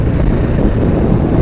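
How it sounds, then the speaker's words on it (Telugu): Wind rushes past a rider on a moving Bajaj Dominar 400 motorcycle, a constant low rumbling buffet against the microphone that stays loud and unbroken throughout. "గాలి ఇంత వస్తున్నా కూడా"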